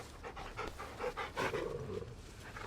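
A dog in Final Fantasy XVI pants in quick, breathy, rhythmic puffs, steady and fairly close, with no voices over it.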